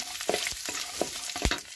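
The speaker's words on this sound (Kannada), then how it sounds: "ಈಗ ನಾನು ಕರಿಬೇವು, ಒಂದು ಮೆಣಸಿನ್ಕಾಯಿ ಮತ್ತು ಉದ್ದಿನಬೇಳೆ ಇದಿಷ್ಟೆಲ್ಲ ಹಾಕ್ತಾ ಇದ್ದೀನಿ" A tempering of peanuts, curry leaves, a chili and urad dal sizzles in hot oil for paper avalakki upkari, with a close crackle broken by a few stirring scrapes.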